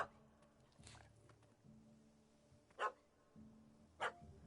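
A puppy in The Witcher gives a few sharp, faint barks, spaced about a second apart over quiet ambient sound.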